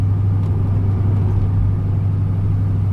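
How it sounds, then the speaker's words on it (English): A Plymouth car, new in 1979, idles and drives with a low, steady droning exhaust that sounds noisy and needs repair, a constant close rumble with no voices. "I've got to get the exhaust done. I don't like the droning. It's just too noisy."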